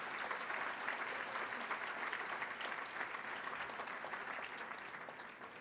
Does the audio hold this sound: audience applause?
yes